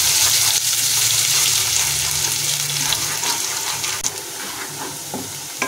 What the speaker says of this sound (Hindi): लहसुन हमारा भून चुका है